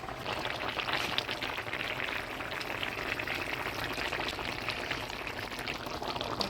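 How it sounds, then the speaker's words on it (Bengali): Fried bata fish slipping into simmering curry gravy in a village kitchen, a steady bubbling, pouring hiss that holds evenly throughout at moderate loudness with no voices. "এবার ভেজে রাখা বাটা মাছগুলো দিয়ে দিব।"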